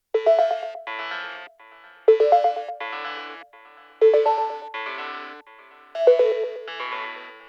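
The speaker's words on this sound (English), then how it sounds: "This voicing is doubled with the bell sound below and playing spaced out arpeggios to add some" Bell synth in a melodic techno build-up plays spaced-out arpeggios through a ping-pong delay, four clear phrases of bright chiming notes repeating every two seconds, each decaying into echoing repeats, alone and upfront.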